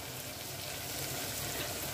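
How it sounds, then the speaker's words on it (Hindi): String beans (barbati) frying in oil, a steady dense sizzle that holds at an even level with no speech, close to the pan. "हमारा थोड़ा तेल में फ्राई हो जाए बरबट्टी"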